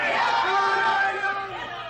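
An angry crowd of loyalists in St. Augustine shouts and jeers in a dense, loud mass of overlapping voices, close and continuous throughout.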